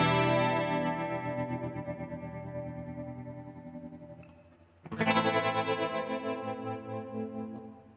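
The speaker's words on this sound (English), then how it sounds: "I also used my guitar in the introduction with an auto pan going a bit crazy" An electric guitar run through an auto pan set as a chopper effect, sustained chords rapidly gated into a fast stuttering pulse, with a brief dip before a new, brighter chord strikes and keeps chopping.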